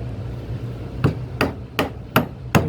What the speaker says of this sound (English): Now I'm going to get my 3/4 inch chisel.